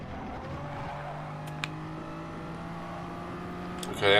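Toyota Supra race car lapping Monza in a video game, its engine holding a steady, sustained drone with shifting pitch, closing with a short loud burst of noise.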